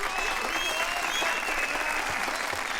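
Crowd applause inside a nightclub in Yakuza 0, a dense, steady wash of many hands clapping at mid distance, with a faint tonal line running through it and no clear pauses across the short stretch.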